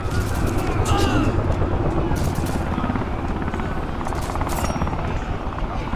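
Aircraft roar sweeping past in the strategy game Dune: Spice Wars, a steady loud rotor-like rumble that holds across the whole stretch with slight swells.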